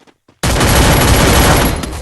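A sudden, loud burst of rapid gunfire in Free Fire that starts abruptly after a brief quiet moment and keeps going as a dense, continuous barrage.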